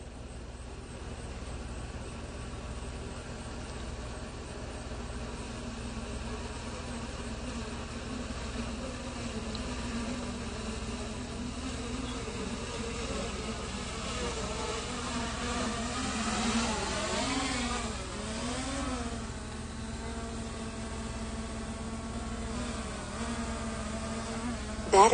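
Drone aircraft hovering and flying at low battery before returning home at sunrise, a continuous buzzing whine of small propellers with slight pitch shifts, moderately close and steady throughout.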